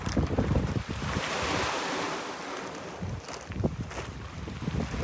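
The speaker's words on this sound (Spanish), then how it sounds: "se oyen las olas un poquito fuertes." Strong surf on a choppy sea breaks close by, a steady roar of waves rolling in and washing back, with gusts of wind buffeting the microphone throughout and no voices.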